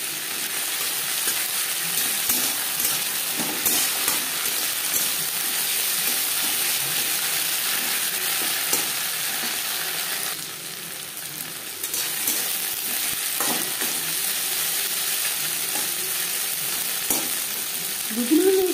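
Ginger and green chili paste stirred in a hot pan, a steady close sizzle with light scraping of the spoon throughout, briefly quieter near the middle, no talking.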